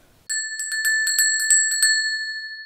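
Bell on a 1902 knife grinder's cart, rung rapidly about nine times in an even, clanging burst, then left to ring out in a clear metallic sustain, close and loud with nothing else audible.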